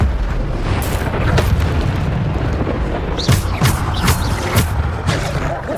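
Explosive Bombarda spell blasts in the Hogwarts Legacy video game, a dense, loud roar of booms and bursts with sharp repeated cracks near the end, continuous throughout.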